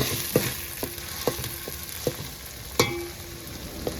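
Onions fry in oil in a pan for chicken curry. There is a low crackling sizzle with sharp clicks from a spoon striking the pan at a regular pace, and no talking.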